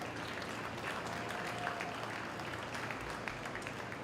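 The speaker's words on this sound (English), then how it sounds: "Let's give our junior showmanship exhibitors a big round of applause" An audience at a county fair beef show claps for junior showmanship exhibitors, a soft, steady patter of applause heard from a distance with no talk over it.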